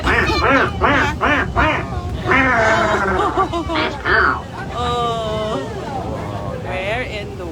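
Crowd of Aqua Duck amphibious tour passengers at Surfers Paradise, Queensland, imitating ducks with loud rhythmic voiced quacks in unison, over engine rumble and general chatter.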